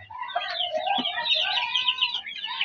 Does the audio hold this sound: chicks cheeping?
yes